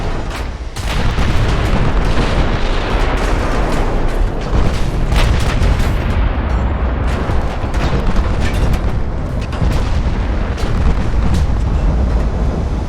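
In the naval battle game Ultimate Admiral Dreadnoughts, a battleship takes heavy shellfire and sinks, with loud continuous booming explosions and rumbling blasts that overlap without pause.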